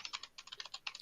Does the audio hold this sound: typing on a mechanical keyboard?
yes